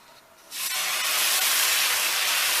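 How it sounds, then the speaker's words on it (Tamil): Banana flower dosa batter hits a hot pan and sizzles at once, a loud, steady broadband hiss that starts abruptly after a quiet moment and keeps going without pause. "காய்ச்சி இப்போ நான் தோசை ஊற்றுறேன்."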